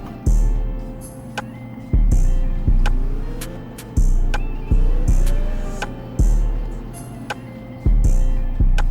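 Car engine in the video game Driving Empire revving in repeated short bursts, about six rising roars each dropping back, loud and close with no talk.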